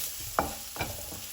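Shallots frying in ghee with curry leaves while being stirred for a Kerala onion rice. Two or three quick spoon scrapes stand out over a soft, quiet sizzle.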